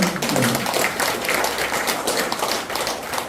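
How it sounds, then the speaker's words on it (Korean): An audience at a presentation on rescue cases by a Korean rescue group claps together in a dense, fairly loud burst of applause that holds steady. "박수 한번 쳐주세요."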